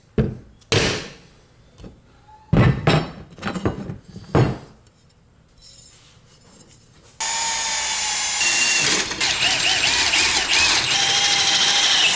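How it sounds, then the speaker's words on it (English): Several sharp metallic hammer taps on transfer punches during a K24 engine swap into a Nissan Cefiro, spaced irregularly, followed by a loud continuous machine whine with a buzzing tone. "Use some good old transfer punches."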